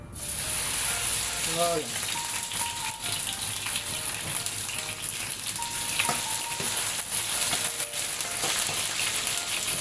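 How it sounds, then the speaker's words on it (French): Okra sizzling steadily as it fries in hot oil, a continuous close crackling hiss with a brief spoken word near the start. "Et là, on va mettre notre gombo dans l'huile."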